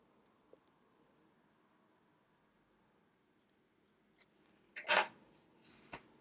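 Scissors snip through combed cotton yarn while making house slippers: a quiet stretch, then two or three crisp close cuts near the end.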